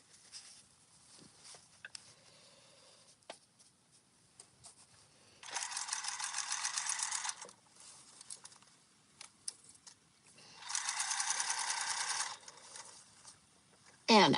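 A sewing machine stitches a wallet pocket in two steady whirring runs of about two seconds each. Between the runs are quiet handling clicks and rustles.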